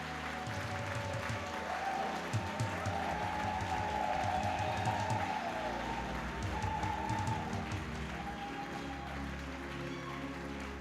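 A church congregation applauds and cheers in praise, sustained steady clapping filling the room for about ten seconds with some voices mixed in and faint music underneath.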